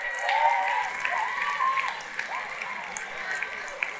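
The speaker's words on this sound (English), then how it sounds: "Big round of applause to your youth leaders." Crowd applauding youth leaders, clapping under a voice that speaks over it through the whole short stretch.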